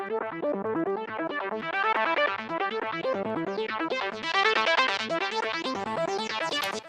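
Bright, higher synth lead preset with filter automation plays a fast, pulsing run of notes whose tone opens and sweeps brighter over several seconds, steady and alone at moderate loudness.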